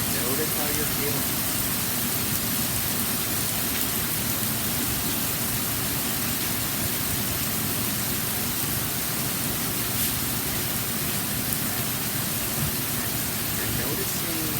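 Steady rain pours down in a storm, a constant dense hiss of drops hitting surfaces that holds at an even level from start to finish.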